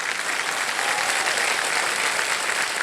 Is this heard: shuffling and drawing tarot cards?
no